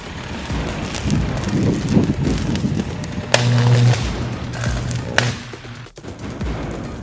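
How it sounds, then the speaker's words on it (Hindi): A 33 kVA village electrical transformer explodes after a short circuit, giving sharp bangs at about 3.3 and 5.2 seconds over a roar of crackling and wind-like rumble, with a steady low electrical hum in between. "तभी ट्रांसफार्मर में जोरदार धमाका हुआ।"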